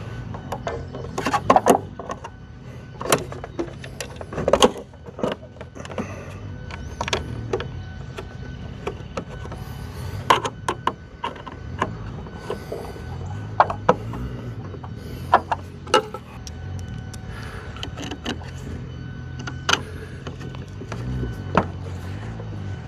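Set screws being tightened on the back of Jeep JK LED taillights, close-up clicks and ratcheting metallic taps in irregular bursts over a low background rumble, no talking.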